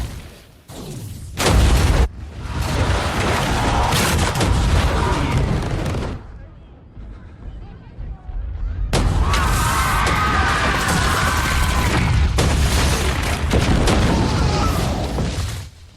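Loud, dense booming and crashing from a film explosion sequence, in two long roaring bursts separated by a quieter rumbling stretch, with sharp impacts at the start.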